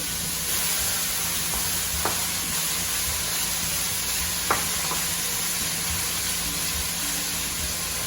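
Peppers fry for a vegetarian pancit, a steady, even sizzle from the pan that continues throughout, with a couple of faint clicks from stirring.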